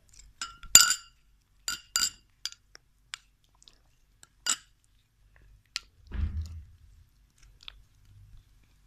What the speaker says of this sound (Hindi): ये जो आपने वो गुलाब की पत्तियों का पेस्ट बनाया हुआ था वो इसको मिक्स कर लें